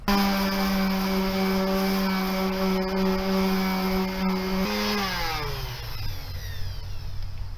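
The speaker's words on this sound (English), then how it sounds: "you have to sand away all the old paint that's been built up over decades in order for the groove to fit into the tongue" A power sander strips decades of built-up old paint from tongue and groove boards during restoration of a 1905 cottage, a loud steady motor whine that drops in pitch and winds down near the end, close by, with no voices.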